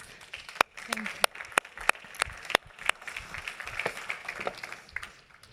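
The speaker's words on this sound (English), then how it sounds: "please welcome with a big round of applause, Mariana Banús, head of the FIFA Foundation" Audience applause for a keynote speaker at a conference, with scattered individual claps standing out sharply against a steady, moderate patter of clapping across the room.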